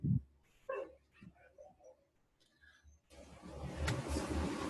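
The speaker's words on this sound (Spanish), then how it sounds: "más se escuchan los perros" Dogs bark in short, scattered bursts from somewhere near a home setting, a few separate yaps and barks spread over several seconds, followed by a louder rushing wash of traffic-like noise.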